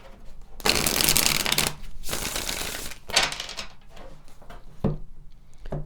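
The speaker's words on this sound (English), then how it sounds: "Let's pull some additional tarot cards to see what else wants to come forward for you here" Tarot cards shuffled loudly and close, several bursts of dense riffling and slapping separated by short pauses, followed by softer taps as cards are drawn and laid down.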